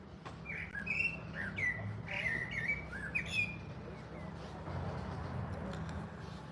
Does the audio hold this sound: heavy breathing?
no